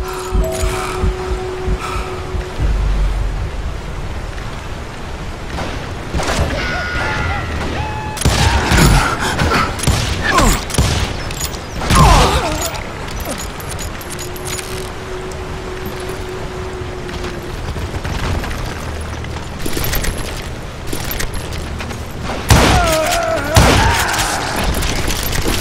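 Gunfire in the Western shooter Call of Juarez: Gunslinger, with scattered loud shots and booming bursts that come in irregular clusters across a long stretch, mixed with mechanical clatter and game ambience.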